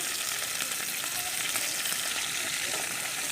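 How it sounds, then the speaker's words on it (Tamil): Okra sautéing in hot oil in a pan gives a steady, dense sizzle that stays close and loud from start to finish, with no talking over it. "எண்ணெய் நல்லா காஞ்ச பிறகு வெண்டைக்காய் போட்டு நல்லா வதக்கி விட்டுக்கலாம்"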